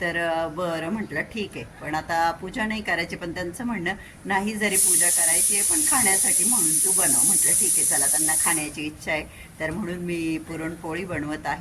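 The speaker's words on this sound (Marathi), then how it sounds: "माझ्याच घरातल्या कुकरच्या शिट्ट्या तुम्हाला ऐकू येत आहे" A home pressure cooker cooking lentils for puran poli lets out a loud, steady hissing whistle of steam lasting about four seconds, while someone talks before and after it.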